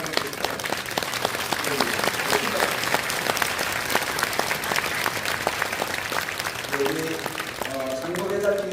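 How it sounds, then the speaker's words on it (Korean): A congregation at a church retirement and installation worship service gives dense, steady applause lasting several seconds, and a voice begins speaking over it near the end. "그러시면 우리가 큰 박수로 다시 한번"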